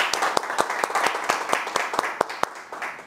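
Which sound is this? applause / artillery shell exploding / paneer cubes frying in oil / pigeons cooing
applause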